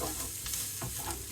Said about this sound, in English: We're going to pop that in, give that a bit of a stir.